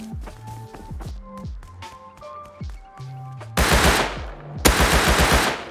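Gunfire in the video game Rust: footsteps and shuffling give way to two loud bursts of rapid automatic fire near the end.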